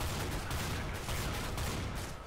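Shotgun fire in Counter-Strike: dense, continuous gunfire with repeated blasts merging into a steady roar, heard alone without talk.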